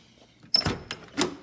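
Door of a 1972 Chevy Highlander being handled, with a loose, sloppy fit: a sharp clunk followed by a second lighter knock and a third rattling thud, close and fairly loud in a quiet space.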